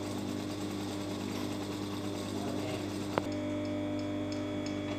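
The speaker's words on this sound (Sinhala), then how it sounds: "මෙතන ඉඳන් මෙතෙන්ට මෙහෙම මහන්න" A sewing machine stitches a seam on a pair of shorts, running as a steady mechanical hum with a fast repetitive ticking and one sharp click near the end.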